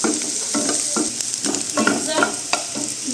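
Chopped onion sizzles in hot white oil in a pan while a spatula stirs it in quick, scraping strokes. The frying hiss is steady and close.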